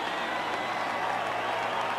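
A big Shea Stadium baseball crowd roars and cheers at two strikes on Dwight Gooden's batter in an NLCS playoff game, a steady distant wash of voices and applause.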